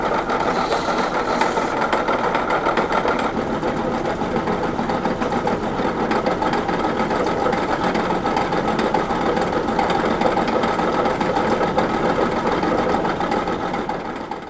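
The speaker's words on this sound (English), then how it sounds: "At another grinding block, he shapes the pre-milled tangs." A grinding block shapes pre-milled knife tangs in an old basement knife-making workshop, giving a steady, continuous grinding whir that runs loud and unbroken throughout.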